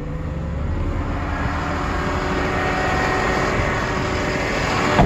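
A fire rescue truck's engine runs steadily with its PTO engaged, gear in neutral and parking brake on, giving a loud, constant low mechanical drone with no talk.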